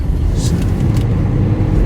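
A big truck drives along a road with a steady, close, low engine and tyre rumble. Traffic noise continues throughout.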